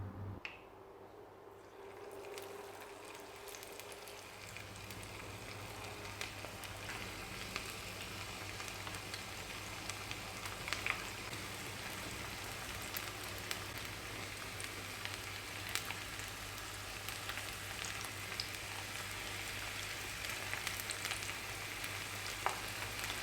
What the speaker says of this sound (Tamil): இதை வந்து எண்ணெயில் பொரிச்சு எடுத்துடலாம்